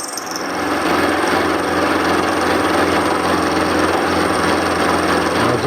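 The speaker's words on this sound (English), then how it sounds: "we're down milling here, so she's running quite smoothly" A milling machine down-mills with a 12mm carbide end mill, starting up and then holding a loud, steady whirring cutting noise with a dense hiss, close and uninterrupted.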